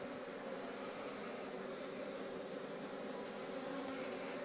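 Honey bees on a hive frame from a weak spring colony give off a faint, steady, even buzz that carries on without a break for several seconds, with no voices.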